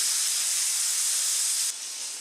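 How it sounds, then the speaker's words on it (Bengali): Bottle gourd being stir-fried in a hot pan for a lau recipe: a steady, close, loud hiss of sizzling that drops a little in level near the end, with no talk. "ভালো করে লাউগুলো দিয়ে একটু কষিয়ে নেব।"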